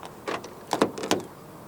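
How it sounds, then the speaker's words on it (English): A few short mechanical clicks and clunks from a 2024 Hyundai Tucson 1.6T locking via keyless entry button on the front door handle, spaced closely in a quick burst, heard up close. "To lock the car, press the black button on any of the front door handles."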